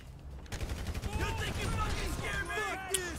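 Rapid gunfire in the video game GTA 5 during a police shootout: a dense, loud volley of crackling shots runs through the scene under excited speech.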